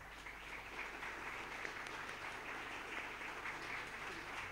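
An audience at a national public-budget seminar applauds to welcome a speaker, a steady even wash of clapping heard faint and distant.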